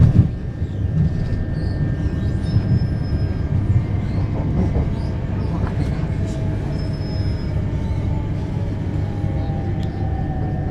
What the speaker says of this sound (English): we're having a race with the Docklands railway train